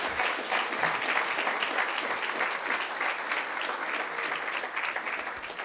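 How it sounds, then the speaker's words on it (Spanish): A church congregation claps in sustained, even applause during a sermon on the Holy Spirit, moderately distant and without pause. "Dale un aplauso a Cristo."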